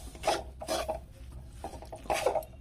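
Rice flour dough for chusi pitha being stirred and worked by hand as water goes in a little at a time, giving bursts of scraping, rubbing rasps in an irregular rhythm, close up and fairly quiet.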